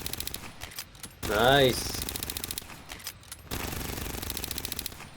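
Full-auto pistol gunfire in a video game, a Doc build, crackles as rapid continuous bursts with a short pause between them, while a voice talks briefly over the shots.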